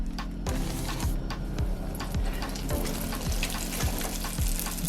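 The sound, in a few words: donut dough frying in hot oil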